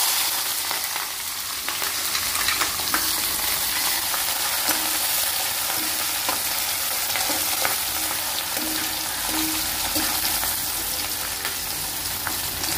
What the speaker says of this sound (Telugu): కట్ చేసి పెట్టుకున్న ఉల్లిపాయ, పచ్చిమిర్చి వేస్తున్నాను.